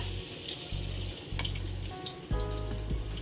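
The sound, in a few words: eggplant frying in a pan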